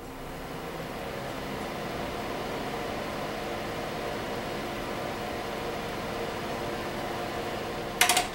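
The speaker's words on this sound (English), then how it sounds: "Now let's take a look at a space heater." Electric space heater running with a steady fan-like whir and airy hiss, constant and close, ending with a brief clunk at the end.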